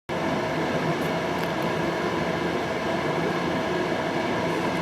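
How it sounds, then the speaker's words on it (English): A train rolls into the northern portal of the Boronia No.1 railway tunnel near Cowan, Sydney, producing a steady, dense rumble and hiss that holds at an even level throughout. "We've got a train just entering the portal on the northern end here."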